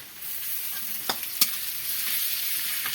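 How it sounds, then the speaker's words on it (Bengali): Sliced onion frying with garlic and ginger paste for a village-style cabbage dish gives a steady, bright sizzle with a few sharp stirring scrapes, no voices. "পেঁয়াজটা ভালো করে ভাজে নেব। রসুনটা দিয়ে দেবো, রসুন বাটা, আদা বাটা"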